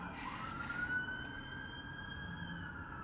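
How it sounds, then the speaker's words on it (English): Emergency vehicle sirens wail outside in a busy area on a nice day, a distant, faint sustained tone over a steady low traffic rumble. "Lots of sirens and stuff today,"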